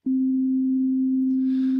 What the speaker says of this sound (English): The first one is sine wave, and a sine wave is what we would consider a pure tone.